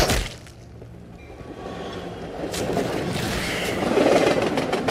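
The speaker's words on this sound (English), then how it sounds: "The sound of the train kind of freaked me out." Train passing in the virtual reality game Into the Radius, a low rumbling rail clatter that swells steadily louder over several seconds as it draws near, with a faint rushing whoosh on top.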